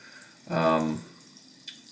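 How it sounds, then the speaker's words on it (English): A little water trickles into a tub of Abbate y La Mantia hard shaving soap, a brief close splash lasting about half a second, followed by a small click against a quiet room. "We just put a little water in there"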